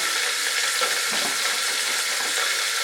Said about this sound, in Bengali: সবজিটাকে মাঝারি আঁচে আমি ফ্রাই করব, কিছুক্ষণ সময় লাগবে।